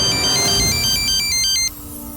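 A phone ringtone plays a bright, repeating electronic melody of short tones at a steady rhythm over a low background hum, then cuts off suddenly before the end.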